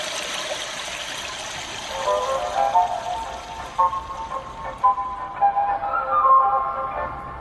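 Electronic device mimicking a continuously flushing toilet, a steady rushing water sound with gurgling and trickling surges that pulse irregularly, fairly loud and close with no speech.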